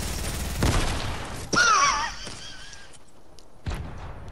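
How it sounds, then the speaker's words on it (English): Grenade blast in Fortnite Save the World: a sharp, loud burst followed by a second heavy boom with ringing high tones and scattered combat noise, then a later thud, no talking. "I killed someone with a grenade"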